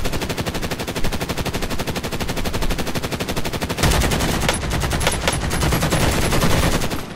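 An AK rifle in Call of Duty: Modern Warfare fires loud, rapid automatic bursts, the tight rhythmic crack continuing almost without pause for several seconds and growing heavier partway through.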